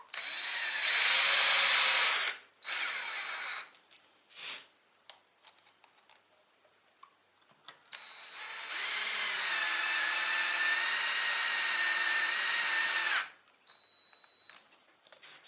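A power drill drives self-tapping screws into an aerated concrete block, whining loudly in two long runs. Short bursts and faint taps fall between them, close up and with no talk.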